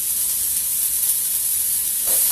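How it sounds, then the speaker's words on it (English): Carrots fry in a heated soup pot, giving a steady close sizzle that runs throughout and swells slightly toward the end. "I love that sizzle."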